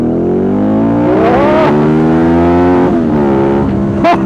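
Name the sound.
Ducati Multistrada 1200 motorcycle engine accelerating in Sport mode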